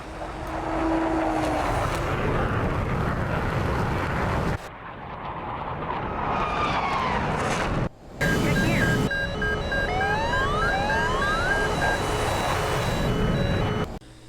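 High-pitched aircraft engine howl from a V12-powered plane, whining and sweeping in pitch like a racing car, loud and close with abrupt cuts between passes.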